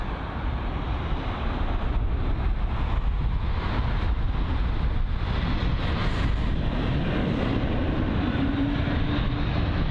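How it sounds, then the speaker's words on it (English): A Swiss Airbus A320neo landing on runway 27 right at London Heathrow gives a steady, loud broadband jet roar that holds for the whole stretch, with a faint rising whine partway through and no voices. "So the A320neo, once again, this time operated by Swiss. And that's landing on runway 27 right."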